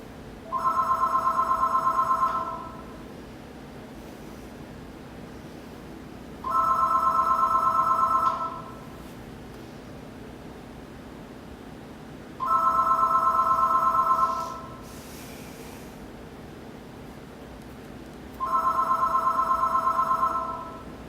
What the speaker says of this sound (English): That is the phone.